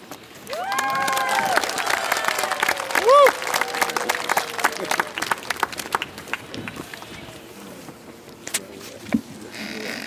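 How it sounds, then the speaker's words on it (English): A school crowd applauds and cheers loudly for fifth graders at an Arbor Day event, with a burst of whooping near the start and scattered clapping as it tapers off. "Let's give one more round of applause to our fifth graders."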